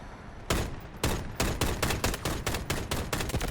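Gunfire and tank cannon fire in the video game Delta Force: loud, sharp shots start singly, then speed up into dense rapid bursts, close and punchy, with no voices.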